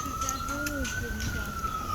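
A siren holds a steady, high tone in the background while a voice talks faintly underneath.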